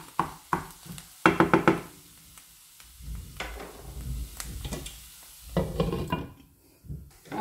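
Spinach and feta filling ingredients sauté in a pan, with scraping stirs, clinks of a utensil against the pan and an intermittent sizzle, irregular and close.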